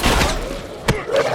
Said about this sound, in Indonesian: membuat Sofia melakukan aksi balasan penuh tembakan